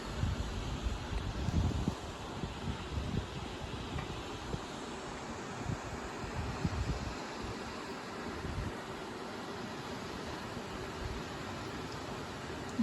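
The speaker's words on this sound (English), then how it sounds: "Nice little breeze here too." A light outdoor breeze at a waterfall overlook, making a soft, steady wash of wind with a few gentle gusts buffeting the microphone.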